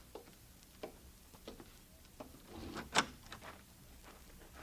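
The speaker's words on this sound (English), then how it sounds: "open the door for him." A wooden shack door in 1876 Minnesota creaks and clunks open, a short sharp latch-like knock near the middle amid faint scattered footsteps and knocks, fairly quiet overall.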